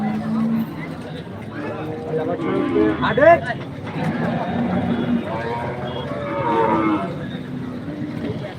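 Cattle moo repeatedly amid a crowded livestock market at Choubaria, with people talking and chattering nearby throughout.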